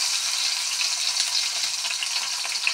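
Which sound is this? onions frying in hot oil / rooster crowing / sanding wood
onions frying in hot oil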